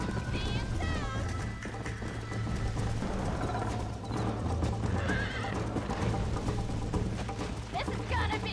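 Horses gallop with fast rhythmic hoofbeats and loud neighs in the video game Red Dead Redemption, close and continuous, as riders shout to each other over the drumming hooves and music.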